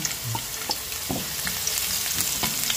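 Ginger and garlic fry in hot oil for a sauté, a dense, steady sizzle with scattered crackles and pops, close and loud, and no voices are heard.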